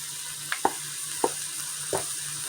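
Chili ingredients sear in an Instant Pot, making a faint, steady sizzle with a few soft scraping stirs against the pot, under a constant low hum.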